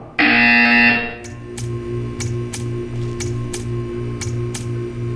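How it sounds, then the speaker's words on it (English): A loud electronic buzzer from the video game Portal 2 sounds for about a second, followed by a steady repeating ticking pulse. "You will hear a buzzer."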